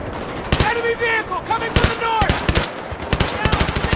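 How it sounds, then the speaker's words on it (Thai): Rapid bursts of machine gun fire in Battlefield 3, loud and close, in repeated volleys with brief gaps, mixed with other game effects. "ยิงปืนกลเหรอ"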